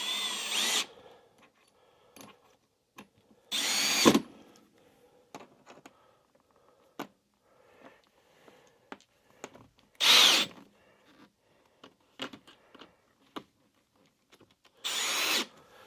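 A power drill runs in four short bursts, driving screws to fasten a board back onto a Marshall Origin 50 guitar amplifier cabinet, with scattered clicks and handling knocks in the quiet gaps between.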